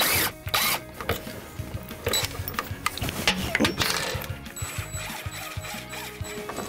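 Power driver with a #1 square bit backs long screws out of an AC bezel, its whirring bursts coming close and fairly loud amid clicks and handling clatter, with no speech.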